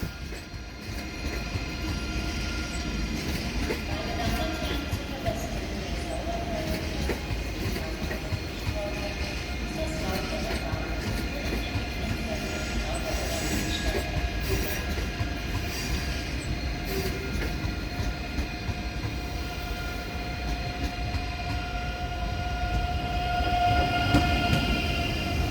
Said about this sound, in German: Einfahrt meines Zuges nach Frankfurt am Main Hauptbahnhof.